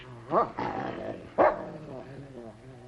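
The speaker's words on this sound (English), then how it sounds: "Your dog seems to have taken a dislike to me, sir." A dog growls and barks in an indoor setting, two sharp loud bursts separated by lower rumbling growls, fairly close.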